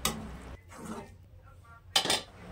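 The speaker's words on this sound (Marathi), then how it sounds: "त्यानंतर हे मिश्रण पुन्हा आपल्याला चांगल्या रीतीने मिक्स करून घ्यायचे आहे" A spoon scraping and clinking against a pan as an okra fry mixture is stirred, a few distinct bursts of metallic scraping with short pauses between, close and moderately loud, the last burst sharpest.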